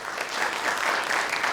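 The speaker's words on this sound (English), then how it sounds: "So real quick, give yourselves a round of applause." An intern conference audience claps steadily, a continuous wash of hands that stays even and moderately loud throughout the short burst.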